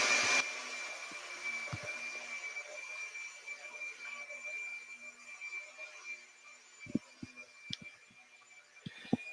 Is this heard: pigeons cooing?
no